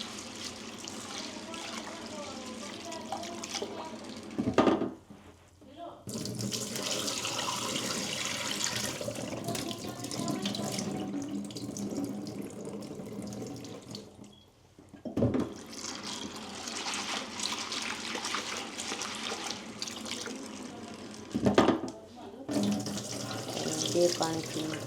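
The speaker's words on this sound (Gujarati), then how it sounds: "ચાલો આપણે સાબુદાણાને પહેલાં ધોઈ નાખીએ સાફ પાણીથી" Sago pearls being washed in a kitchen under a running tap, water pouring and splashing steadily into a bowl, with a few brief pauses and louder sloshes.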